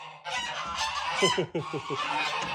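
Geese on a farm honk loudly and close in a quick run of repeated calls, some overlapping, with a brief pause midway before the noisy flock sound resumes.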